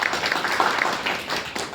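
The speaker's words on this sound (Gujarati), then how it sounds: "ખરેખર બધા એક તાળી બધા માટે આપણે પાડી છે" Audience applause at a Gujarati book discussion event, a steady wash of many hands clapping together at moderate volume for a couple of seconds, with no speech over it.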